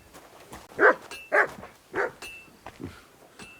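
A dog barks three times in Kingdom Come: Deliverance 2, the barks fairly close and evenly spaced, followed by a softer low yelp, with no talk over them.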